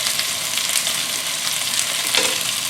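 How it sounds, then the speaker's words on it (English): Asparagus stir-fries in a hot pan with garlic and olive, giving a dense, steady sizzle and crackle heard up close, loud and unbroken by speech. "Let that stir fry for a few minutes."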